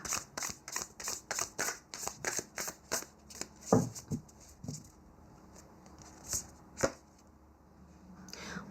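Oracle cards being shuffled by hand, a fast regular run of crisp riffling slaps up close, then slower scattered card flicks and taps with a soft thump near the end.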